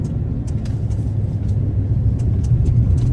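A car drives along a straight road with a steady low engine and tyre rumble heard from inside, loud and continuous with occasional faint clicks.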